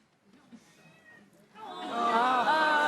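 A Bengal cat lets out a drawn-out, wavering meow that swells loud and close after a quiet stretch with faint background sounds.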